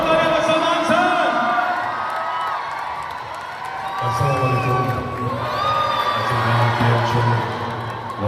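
A large audience at Salman Khan's Da-Bangg Tour Reloaded stage show in Dubai cheers and whoops loudly and continuously, with shouting voices and tonal music-like lines running through the sustained roar.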